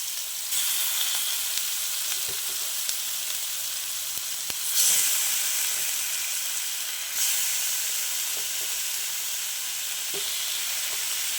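Chicken pieces frying in a pan, with a loud, steady hiss of sizzling oil that swells twice as more moisture hits the heat, and faint stirring clicks underneath.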